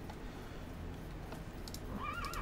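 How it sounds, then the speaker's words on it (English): A horse in the Minecraft video game whinnies near the end with a wavering, rising-and-falling neigh, set over a steady, low game background hum. "Look at my horse. My horse is amazing."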